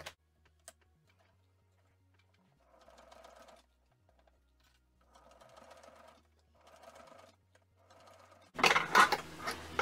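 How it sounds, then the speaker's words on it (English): Domestic sewing machine stitching the base seam of a fabric bucket bag: quiet, close rhythmic whirring in several short bursts, ending with a louder rustle of handling. "I'm just going to stitch there"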